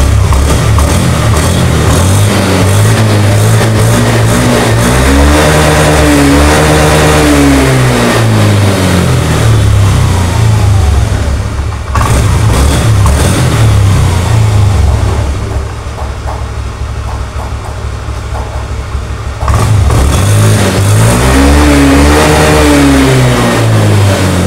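A Honda Beat scooter engine revs repeatedly, rising in pitch, holding and falling, then idling between bursts before another rev near the end; the sound is loud and close with no voices.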